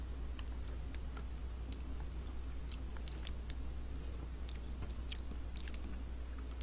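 Quiet, close chewing of a Nature Valley Sweet & Salty peanut butter granola bar, with scattered soft crunches and bites ticking over a faint steady hum; no talking.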